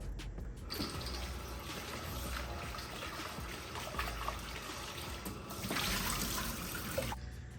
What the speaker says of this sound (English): put some cold water in here and rinse it off to get like any excess dirt off or any excess starch.